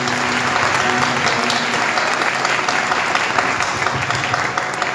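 A church congregation claps loudly and continuously for five seconds during a live praise and worship service, a dense, even roar of hands.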